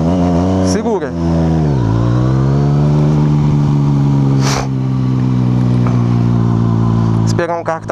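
A car passes close by while a motorcycle's engine revs and accelerates loudly, the steady engine drone rising and falling, with a brief whoosh midway and people talking over the noise.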